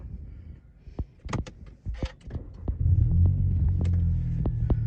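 A modified 2019 Volkswagen Arteon four-cylinder, tuned to 420 horsepower, is heard starting: a few clicks and thumps inside the cabin, then the engine catches into a steady low rumble that holds to the end.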